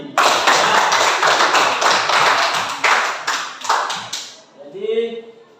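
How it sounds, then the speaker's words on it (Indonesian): Audience applause from a classroom or presentation crowd, a dense, steady clatter of many hands lasting several seconds before tapering off, with a voice briefly heard at the end. "Tepuk tangan lagi."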